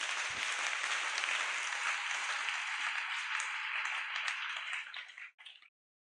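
A church congregation at Saint-Esprit parish in Lubumbashi applauds during a Thursday prayer service, a dense, steady burst of clapping from many hands lasting several seconds before tapering off.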